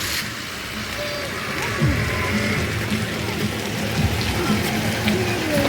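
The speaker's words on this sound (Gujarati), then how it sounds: "વરસાદ ચાલુ છે અને અમે છત્રી લઈને જઈએ છીએ." Steady rain falls outdoors, a dense even patter close by, with faint vehicle noise passing underneath.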